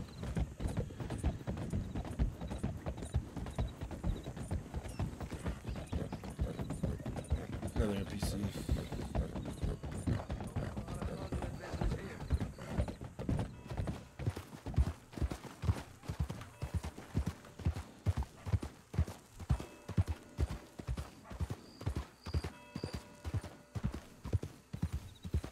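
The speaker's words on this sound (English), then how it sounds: "That's why I have a fast horse." Rapid hoofbeats of a fast galloping horse in Red Dead Redemption 2 roleplay thud in a steady rhythm, with ambient game sounds and a brief whinny in the background.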